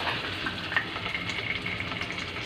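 Onion and tomato sizzling in a preheated frying pan, a steady close crackle and hiss with small pops, alone without speech.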